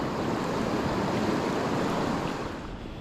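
The River Spey rushes past as a fast spring torrent, giving a dense, continuous roar of water heard close and loud, with wind buffeting the microphone.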